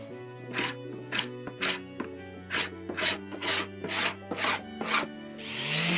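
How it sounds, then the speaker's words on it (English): Wooden woodworking project sanded by hand, a series of about ten short, loud rasping strokes at an uneven rhythm, close up, with a steady low hum running underneath. "I'll just give it a sand"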